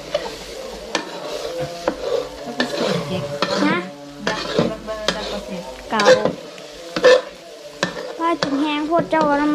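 Food frying in hot oil in a pan during a rustic breakfast cook, with stirring, utensil clinks and crackling sizzle heard close up, broken by sharp scrapes while people talk at intervals.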